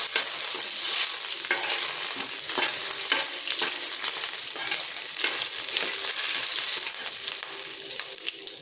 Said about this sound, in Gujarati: બધું જ આપણે સારી રીતે સાતળી લઈશું